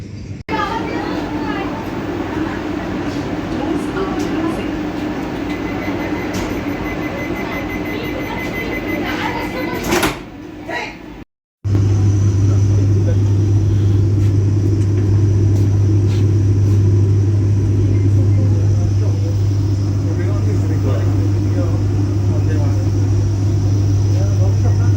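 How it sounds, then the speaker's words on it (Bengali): The Howrah–New Jalpaiguri Vande Bharat Express pulls out of Howrah station amid a crowded platform, with a steady loud rumble and hum, a brief dropout mid-way, then a strong low drone as the train moves off. Many voices talk throughout. "হাওড়া থেকে ছাড়লো পশ্চিমবঙ্গের প্রথম বন্দে ভারত হাওড়া নিউ জলপাইগুড়ি বন্দে ভারত এক্সপ্রেস"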